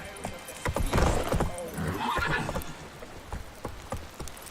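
Roach the horse in The Witcher 3 whinnies and gallops, hoofbeats clip-clopping in a steady rhythm beneath a loud neigh, set against game ambience.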